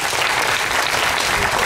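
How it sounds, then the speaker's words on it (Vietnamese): An audience at a book-reading contest final bursts into loud, sustained applause, a dense wash of clapping filling the whole hall without a break. "Và một tràng vỗ tay thật lớn"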